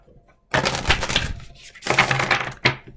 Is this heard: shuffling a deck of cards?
yes